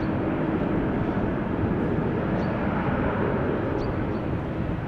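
An Airbus A330 lands at Amsterdam Schiphol Airport, its engines giving a broad, steady roar that holds loud and unbroken throughout.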